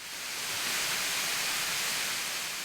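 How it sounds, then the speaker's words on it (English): Water runs steadily at Callaway Gardens, a continuous, even rushing hiss that holds at the same level throughout with no voices. "The sound of running water,"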